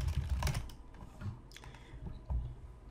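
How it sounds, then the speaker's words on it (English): Quiet keystrokes on a computer keyboard come in short, uneven bursts of soft clicks, close by, with brief pauses between groups. "we're going to type in Python download"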